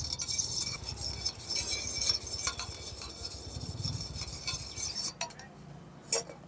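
Lemon juice and coconut oil are mixed in a bowl with steady, continuous rubbing and scraping strokes, close and moderately quiet, with a few light clinks toward the end.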